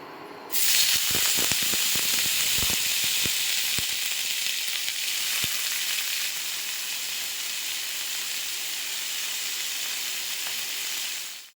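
Long strips of bitter gourd and potato sizzle loudly in hot oil in a home kitchen pan, a steady frying hiss broken early by a few sharp crackles and pops, then easing slightly toward the end.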